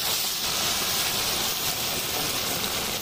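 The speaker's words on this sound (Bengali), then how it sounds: "এই যে পকোড়া ভাজা শুরু।" Steady, bright hiss of marinated pakoras frying in hot oil at a campsite picnic on Mangaldeep island, a continuous close sizzle with no talk.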